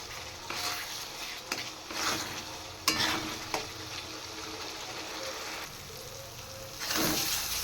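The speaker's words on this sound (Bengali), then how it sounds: "এবার মশলাটা আমি একটু ভালো করে কষিয়ে নেব।" Spice paste fries and sizzles in a pan for a Bengali fish-and-greens dish, with a steady crackle broken by several sharp scrapes and clinks of the spoon against the pan.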